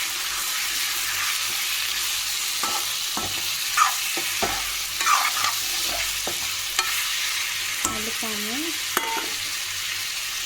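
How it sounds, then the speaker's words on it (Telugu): Salted, chili-coated chicken fries in a pan for spicy Andhra-style curry, giving a steady sizzle broken by repeated scraping and clattering of a spoon. A brief squeaky scrape comes near the end. "చికెన్ అనేది కర్రీ కోసం ఫ్రై చేస్తున్నాను"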